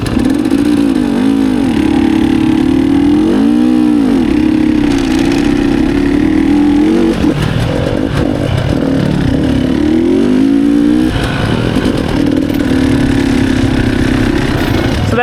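A motorcycle engine revs and swells on a track, its pitch rising and falling steadily as the rider holds the throttle while dragging the brake through a turn.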